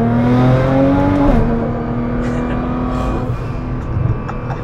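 A 1000hp Alpha 10 Nissan GT-R accelerates hard at full throttle, its loud engine note climbing steadily, dipping briefly at a shift, then pulling on, close and continuous.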